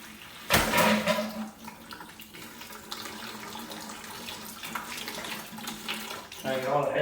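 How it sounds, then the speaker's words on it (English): Water rushes into a line being slowly pressurized, a steady hissing, splashing flow with surges and gurgles, fairly close, lasting throughout. "so water's coming in"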